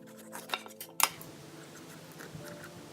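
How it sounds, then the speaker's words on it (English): A knife cuts the tops off bell peppers on a cutting board, giving a few sharp clicks and one crisp chop, then quieter scraping and tapping in a close, calm kitchen. "So you just cut the top part of the pepper, and then you want to slice out the inside"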